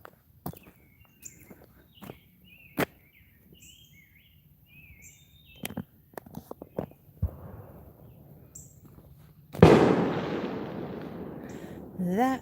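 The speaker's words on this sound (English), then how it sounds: "That was a firework." A firework goes off outdoors, one loud, near boom followed by a long rumbling decay, after scattered footsteps and birdsong.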